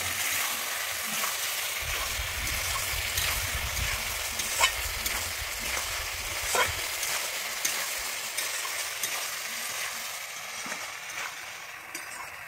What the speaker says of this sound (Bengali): আমি দইটা দিয়ে ভালোভাবে কষিয়ে নেব।